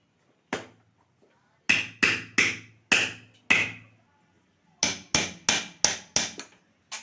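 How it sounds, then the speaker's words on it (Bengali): A coconut is struck and split open with sharp, loud chopping blows in a kitchen while curry is being prepared, coming as one hit, then a run of four, then a faster burst of six, each ringing briefly in otherwise quiet surroundings. "যে নারকেলটা আমি ছাড়িয়ে এভাবে কেটে নিচ্ছি"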